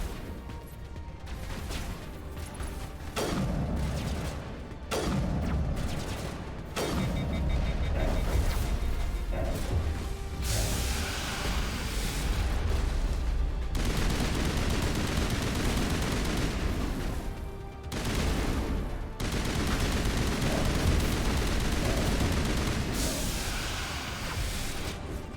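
Repeated heavy blasts from thrown grenades in combat in the game Mass Effect Legendary Edition, loud bursts with crashing debris over dense continuous battle noise, several impacts spread across the stretch.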